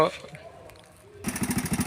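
A three-wheeled cargo truck engine kicks in after a quiet pause, running with a quick, pulsing throb that grows louder as it revs up close.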